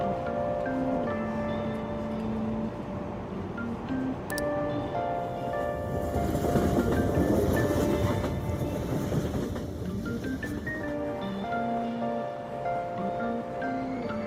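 A train from the video game Persona 5 rides along and pulls into a station, with a steady rumbling drone, tonal hums and faint clatter building to a louder middle swell before settling, with no talk over it.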